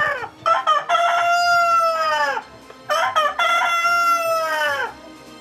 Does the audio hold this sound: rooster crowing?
yes